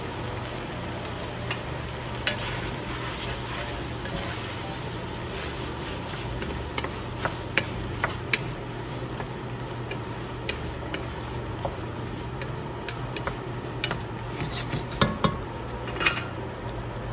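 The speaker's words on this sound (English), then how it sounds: "Cook stirring for 1 to 2 minutes until well blended" A spoon stirring flour, thyme and a bay leaf into a pan of sausage and potatoes, with faint scattered clicks and scrapes against the pot over a steady low background hum.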